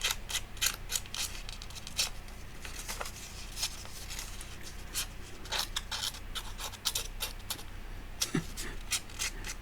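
Sharp scissors snip through thin paper in quick, crisp bursts of close cutting with rustling between them, set against a steady low room hum.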